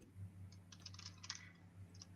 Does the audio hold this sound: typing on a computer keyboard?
yes